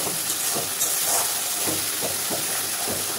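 Water poured into a hot pan of fried pointed gourd pieces, giving a loud, steady hissing sizzle with faint bubbling, close and continuous.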